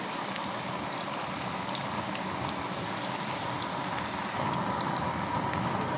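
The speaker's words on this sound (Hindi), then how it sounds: "इसी तरह हमने फ्राई करना है इसे।" Cauliflower pakoras deep-frying in hot oil, a steady dense crackling sizzle at close range that holds even throughout and swells slightly louder near the end, with no talk over it.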